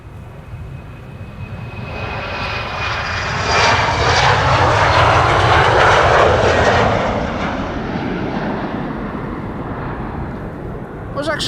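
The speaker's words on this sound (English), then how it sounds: "This is KLM flight 1151 to Trondheim. It's an Embraer 190" KLM Embraer 190 jet airliner departing Amsterdam Schiphol, a loud roaring jet engine sweep that swells to a peak mid-clip and then recedes into a steady distant rumble.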